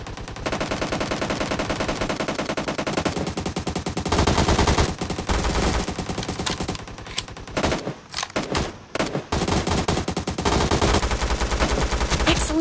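Rapid automatic gunfire in PUBG Mobile, dense loud bursts of shots rattling almost continuously, broken by short gaps and a few sharp single cracks, with in-game voice callouts faintly mixed in.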